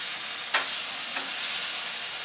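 Cube steaks frying on a flat-top grill, giving a steady hiss of sizzling fat with two brief scrapes or stirs of a spatula standing out.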